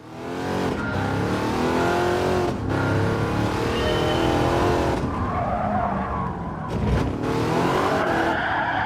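A car in Gran Turismo 7 drifts with a roaring, revving engine and long, loud tyre squeals, the screech rising and falling with brief breaks as the throttle comes on and off.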